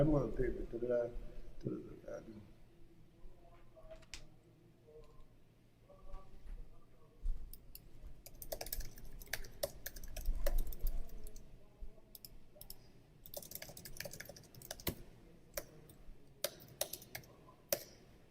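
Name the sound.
computer keyboard keys typing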